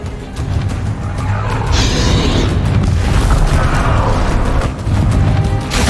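Bombarda spell explosions in Hogwarts Legacy, a loud continuous rumbling boom with crashing bursts and mechanical clatter that fills the whole stretch.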